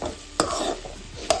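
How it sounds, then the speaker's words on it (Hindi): Boiled potatoes and peas are stirred and fried in a pan, giving a steady close sizzle with two sharp scrapes of a spoon against the metal. "अब इसमें डाल देते हैं आलू भी, क्योंकि आलू भी साथ के साथ भुनना भी थोड़ा ज़रूरी है।"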